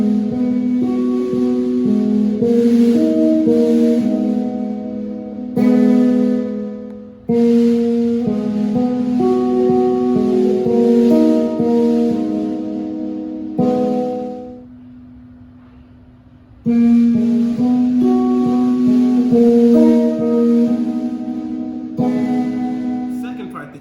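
Guitar riff played slowly, clusters of plucked notes ringing out in separate phrases with brief pauses between them, close and clear, no talking.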